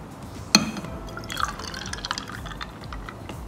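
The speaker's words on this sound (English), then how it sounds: "So now we're going to put the fresh milk." Fresh milk poured into a glass over a matcha mixture for an iced matcha latte with boba pearls, starting with a sharp clink and followed by steady, close liquid splashing and dripping.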